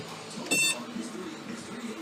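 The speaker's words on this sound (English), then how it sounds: "Oh, why is it beeping? What are you beeping about?" A desktop computer at startup gives a single short electronic beep, bright and brief, over a low background murmur.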